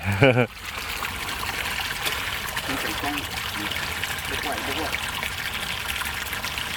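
Water trickles and pours steadily from a well pipe, a continuous close splashing flow, with faint voices briefly heard in the background.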